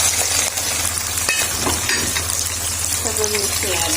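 Onion, tomato and chili frying in hot desi ghee, giving a loud, steady sizzle up close with occasional stirring clatter, while a voice talks briefly over it.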